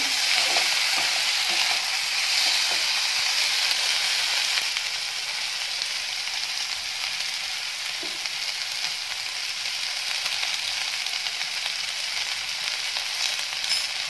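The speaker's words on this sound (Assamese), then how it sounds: "নিমখ আৰু হালধি দি যেনেকৈ আমি আলু ভাজোঁ তেনেকৈ ভাজিলেই হ'ব" Vegetables fry in hot oil with salt and turmeric, cooked the way potatoes are fried, a loud close continuous sizzle with occasional faint stirring clicks, slightly louder at first and then steady.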